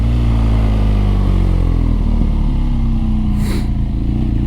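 A BMW R nineT motorcycle engine runs loud and close, a deep, steady throaty drone with small shifts in pitch and a brief airy hiss near the end.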